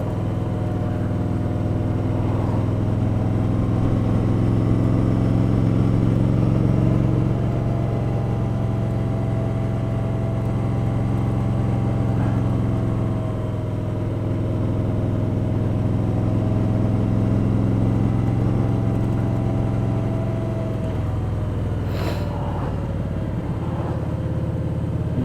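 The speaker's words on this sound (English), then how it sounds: "use the engine braking to slow down on some of these corners rather than using the brakes so much" A motorcycle engine drones steadily while the rider corners on the road to Elbe, a loud, constant mid-pitched hum with slight shifts in revs and no voices over it.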